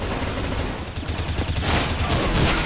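Counter-Strike: Global Offensive gunfire, a loud close barrage of rapid overlapping shots running nonstop through the whole stretch.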